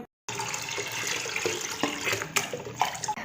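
Water runs and splashes steadily, as from a tap or poured over someone bathing, with a few louder splashes and drips near the close after a brief silent start.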